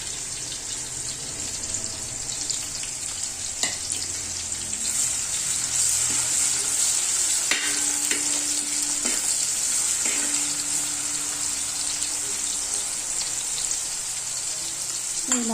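Spring onion whites stir-fry in a pan for chicken fried rice, a steady close sizzle with occasional utensil scrapes and taps over it.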